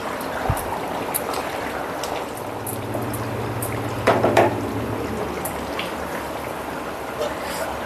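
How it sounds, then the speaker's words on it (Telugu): Fish curry with mango pieces simmering in a pot: a soft, steady bubbling and gurgle, with a brief louder burst of bubbles around the middle and a low hum behind. "ఇదిగోండి మన పులుసు చూడండి ఎలా ఉడుకుతుందో"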